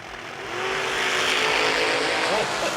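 Two drag racers launch side by side, a square-bodied S10 Blazer and a dragster, their engines building from a low idle into a loud, sustained roar that holds steady across the run, with a commentator's voice partly over it.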